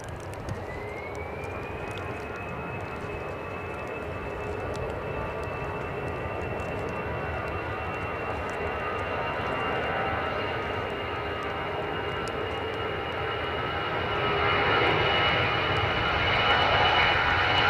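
An Icelandair airliner at Edinburgh airport in wet, gusty crosswind conditions sends out a steady loud jet engine roar with a rising whine, the roar building louder toward the end, with no voices.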